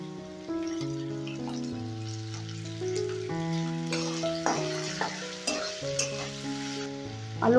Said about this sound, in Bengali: এবারে সবজিগুলো ভেজে নেব। প্রথমে আমি আলুটা দিয়ে দিচ্ছি।